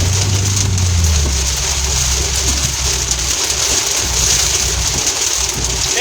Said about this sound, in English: We're pretty much into heavy rain now.